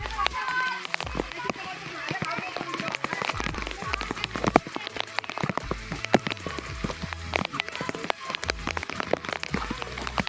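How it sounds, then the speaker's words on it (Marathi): Monsoon rain in the Konkan countryside patters densely on a nearby surface, a steady stream of sharp drops continuing throughout. "आपल्या समोर पाऊस किती आला बघा"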